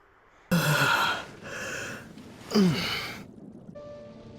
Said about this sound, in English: Yawning without covering your mouth.